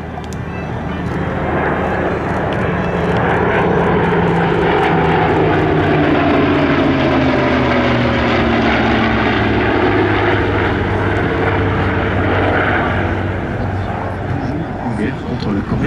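A propeller-driven warbird of Korean War vintage flies past at an air show, its engine a loud, sustained drone whose pitch slides downward as it passes, with a voice talking over it throughout.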